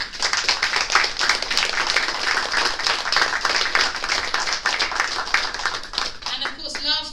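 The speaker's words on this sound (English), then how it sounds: "a round of applause for those amazing people" Audience applause for supporters at an accessible travel event, steady dense clapping filling the room throughout, tapering with a few scattered claps near the end.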